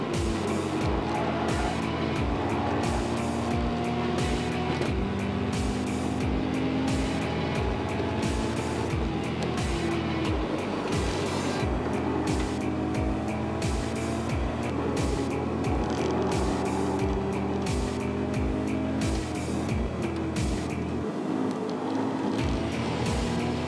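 Toyota 86 and Subaru BRZ race cars roar around Tokachi Speedway on a dry track, engines droning continuously with repeated rhythmic pulses and occasional tire squeal, loud and unbroken.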